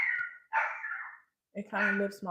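A small excited dog barks indoors, a few sharp yips and barks with short gaps, fairly close and moderately loud, in a home setting.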